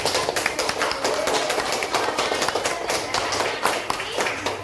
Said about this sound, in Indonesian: Coba beri tepuk tangan untuk diri kita hari ini